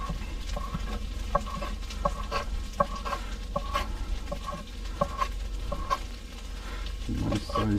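Knife chopping skinned chicken into chunks on a cutting board in a van kitchen, a steady series of close, sharp taps against a busy background hum, with a lower thud near the end.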